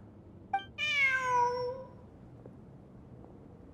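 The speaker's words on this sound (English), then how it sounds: "Look! A cat!" Cat in the video game Genshin Impact giving a single drawn-out meow that falls in pitch, close and clear, followed by quiet ambience.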